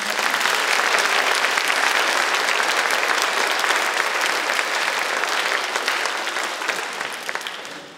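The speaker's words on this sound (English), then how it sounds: "Let's give them all one more round of applause." A crowd at an elementary school fine arts awards assembly applauds third graders, with dense, sustained clapping that slowly fades toward the close.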